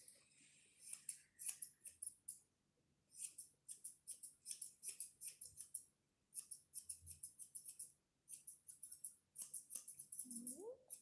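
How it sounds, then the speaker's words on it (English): Scissors trimming a toy poodle's fur, rapid bursts of crisp snipping in quick clusters separated by short pauses, close and quiet, ending with a brief faint squeak. "I need to sharpen my scissors already."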